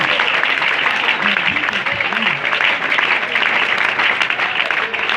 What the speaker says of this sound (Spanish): Aplauda la gloria de Dios en esta hora.